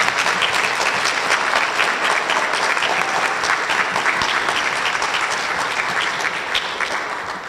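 An audience at a school district spelling bee claps steadily for the champion spellers, a dense, even round of applause that holds throughout and fades slightly at the end.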